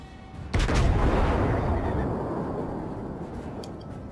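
A single heavy salvo from the main guns of the battleship U.S.S. Colorado in World of Warships booms out loud and close, then rolls into a long fading rumble, with no voices over it.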